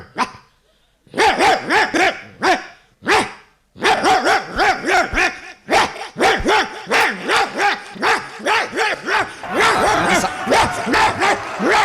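A man imitates a dog with his voice, barking in a loud, close, rapid series of yaps and bow-wows. Short pauses break the barking, which mimics a politician giving a speech.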